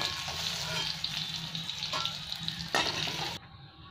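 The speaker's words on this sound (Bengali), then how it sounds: "এখানে তেলের মধ্যে দুটো তেজপাতা দিয়ে দিলাম আমি, দুটুকরো দারচিনি" Whole spices, bay leaves and cinnamon pieces, sizzling in hot oil after potatoes were fried, a dense close crackling hiss with a brief burst of louder spitting before it cuts off.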